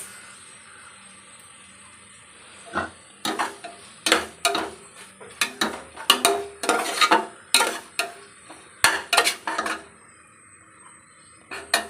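Garam masala being stirred into chicken biryani in a pot: a spoon scrapes and knocks against the metal in a steady run of close, distinct strokes over a faint background hum.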